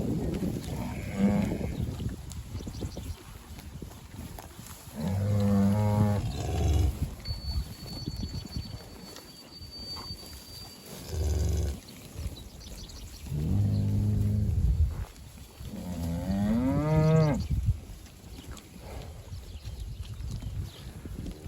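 Several deep, drawn-out cow moos, some close and loud, spaced apart with quieter farmyard ambience between them.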